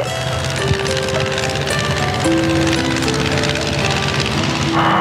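Light aircraft fly in formation over Burgundy. A steady, droning engine is heard up close from inside the aircraft, with no talk.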